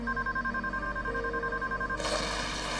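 A telephone rings on and off, unanswered, in short regular bursts of bright double-tone ringing, fairly loud and close, with a burst of broadband noise near the end and no speech.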